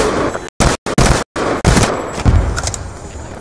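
Light machine gun fired in a video game, loud close bursts broken by short gaps, then a rougher rumbling stretch of shots and impacts.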